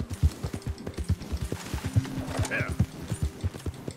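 A horse gallops in Red Dead Redemption 2, with close, rhythmic hoofbeats clopping steadily throughout, a brief whinny, and a voice talking over it.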